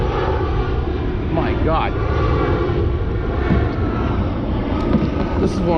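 Propeller airplane flying overhead near the Orlando airport while bass fishing on a lake, a steady loud engine drone throughout with brief talk over it.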